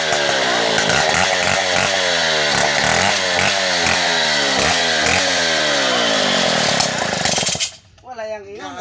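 A power saw, likely a chainsaw, runs loud and steady at a construction site, its harsh motor whine filling nearly eight seconds before cutting out abruptly; a voice follows briefly at the end.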